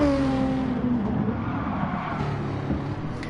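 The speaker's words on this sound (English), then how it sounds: "Juice Realm's skidding a bit" Race car in a night round at Bathurst in a racing video game, engine droning steadily with a brief skidding tire squeal near the start, loud and continuous without talk.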